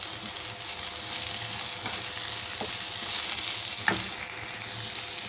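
Coriander leaves and ridge gourd peel sautéing in a pan for a thuvayal, giving a steady broadband sizzle with a few brief stirring scrapes and clicks, close and continuous with no talking.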